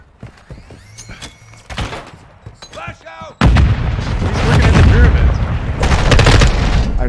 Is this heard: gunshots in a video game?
yes